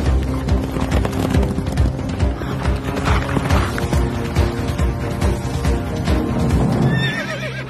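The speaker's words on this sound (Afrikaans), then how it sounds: "sy perd aangespoor en soos die wind teruggejaag kamp toe" A horse gallops hard at full speed, its rapid hoofbeats pounding steadily throughout with a whinny rising near the end, loud and close amid a dense, busy backdrop.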